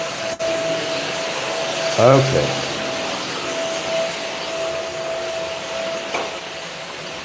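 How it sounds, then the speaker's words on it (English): A household vacuum cleaner runs in a room as a steady, droning whine under a brief spoken word, staying fairly constant at moderate loudness throughout. "she got the vacuum cleaner on"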